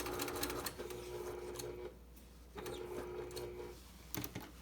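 A sewing machine stitches fabric for an Olson face mask in short runs, a close whirring hum that stops and starts with brief pauses and a few clicks between bursts.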